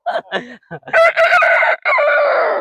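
A voice imitates a rooster's crow, a few short clucking notes followed by a long, loud cock-a-doodle-doo, close up.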